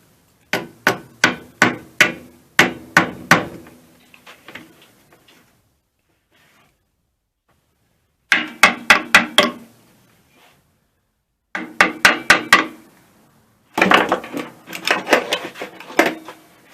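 Metal hammering on an air compressor being taken apart for repair: loud, close bursts of rapid sharp blows separated by silent pauses.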